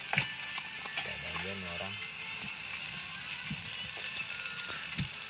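Mie goreng noodles frying in a pan at a mountain camp, a steady close sizzle with occasional scraping and stirring clicks running throughout, while people talk nearby.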